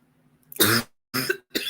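Three quick, rough coughs in a row, close and fairly loud, with short silences between them.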